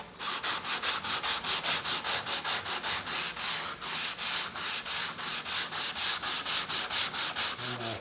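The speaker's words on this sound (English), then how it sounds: "Then I'm just going to hit it with some sandpaper just to make sure it's all clean." Wood filler is sanded by hand with sandpaper while hanging French doors, a close, loud, even rhythm of about three scratchy back-and-forth strokes per second, continuing steadily with no voices.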